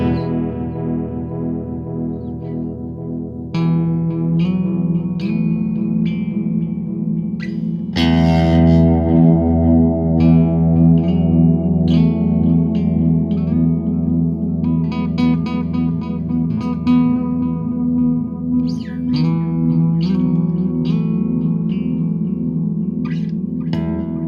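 An electric guitar runs through a looping delay pedal, building layered repeating notes and sustained chords into a dense, reverberant wall of sound that thickens after a sharp strum midway; no talking.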